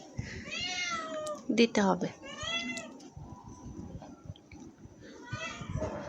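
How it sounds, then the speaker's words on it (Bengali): Several cat meows, high and drawn out, come through close by, the loudest pair in the middle, with people speaking and household clatter around them. "তো বিড়ালটা মিউ মিউ করতেছে"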